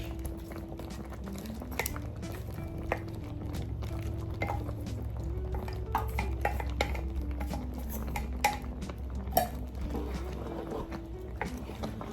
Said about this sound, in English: So now I'm just going to be adding the fish, the dry fish.